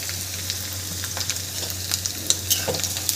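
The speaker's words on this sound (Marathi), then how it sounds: "आता यामध्ये आपण कांदा घालायचा आहे" Chopped onion dropped into hot oil with green chilli for a tandulja bhaji tempering on a gas stove sizzles steadily, with scattered sharp crackles and pops and a few light stirring scrapes, close up and without speech.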